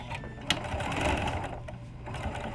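A sewing machine tack-stitches elastic into the corner of a fabric face mask, giving a short steady whirring run of a few stitches with a faint click at the start.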